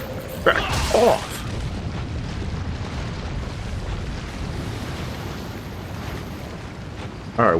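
Lava rooms in the 2005 game Resident Evil 4 give off a continuous low rumbling roar, with a few louder booming bursts near the start and the end.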